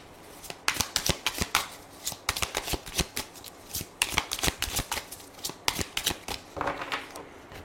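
Tarot cards are shuffled close by in quick riffling bursts, a rhythmic series of crisp flutters and snaps repeated over several seconds, with no talking.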